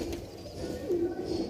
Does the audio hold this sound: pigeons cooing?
yes